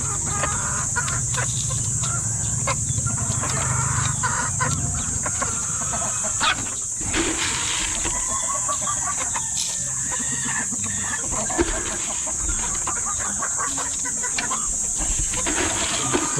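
Farm chickens cluck continuously at close range, with many overlapping calls, an occasional rooster crow and a high steady insect-like whine behind.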